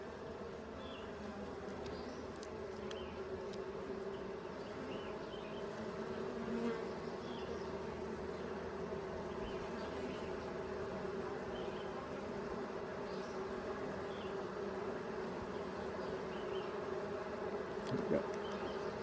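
Honey bees buzz steadily in a dense, continuous drone throughout a Layens hive inspection, the swarm sound close and even with slight swells, no talking.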